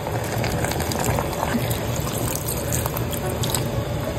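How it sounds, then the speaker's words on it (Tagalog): Coconut milk pours steadily into a pot, a continuous wet gush with faint bubbling underneath, close by and fairly loud throughout. "lalagay ko na rin po itong kakanggata"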